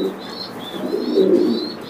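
A pair of King pigeons coos in soft, repeated low murmurs, with faint higher chirps above. The birds are close and clear, with no talking.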